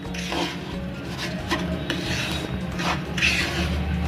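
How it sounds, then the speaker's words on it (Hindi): Semolina (rava) is roasted on medium heat and stirred in a pan, producing a continuous gritty scraping and rubbing close up, with periodic louder strokes and no talk. "अब हम इसको मीडियम आंच पे गुलाबी रंग आने तक भून लेंगे।"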